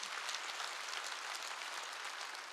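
Steady, dense applause fills a church hall during a Wednesday worship service, continuous and even throughout with no talk over it.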